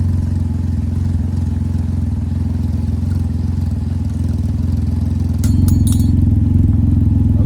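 A Can-Am Ryker with an RLS carbon exhaust, baffle removed, idles loudly up close with a deep, steady throbbing rumble, rising slightly near the end while a brief metallic clatter sounds over it.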